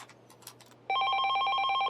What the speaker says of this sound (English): He clucked his tongue in annoyance as the ringing phone broke his train of thought.